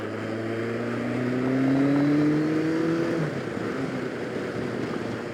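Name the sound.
heavy motorcycle riding away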